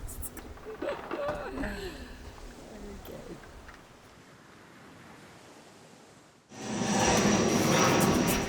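Roar of an airplane rising sharply near an airport by the water, loud and broadband at the end, after quieter wind and surf with people talking.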